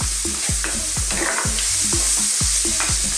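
A garlic mixture fries over fairly high heat for a mild Ethiopian beef and pumpkin stew. A constant sizzle runs under rhythmic knocks and scrapes of stirring, about two per second, close and loud.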